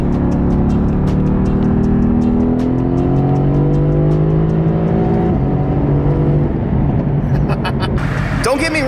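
A stock-exhaust Mercedes AMG GT S with its exhaust valves open revs loud and close, the pitch climbing and dropping in repeated sweeps, then finishes in a burst of sharp crackles. Talk seems to run under the engine.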